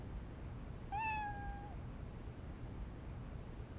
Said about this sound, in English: This cat is a real handful.